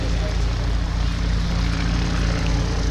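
A Bücker Bü 131 Jungmann biplane flying an aerobatic display at an air show, its propeller engine giving a steady, continuous drone that holds an even loudness throughout.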